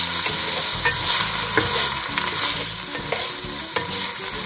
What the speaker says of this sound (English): our garlic, and our onions, and we will be stirring these around